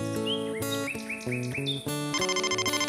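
In a children's cartoon, a mobile phone plays a bright electronic ringtone: a rising chirpy melody that ends in a fast repeating pulse, alone and up close.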